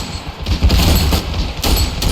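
Carpet bombing and gunfire in the World War I trench battle of the game Ravenfield, a loud, dense barrage of booming blasts and rattling shots rolling on without pause.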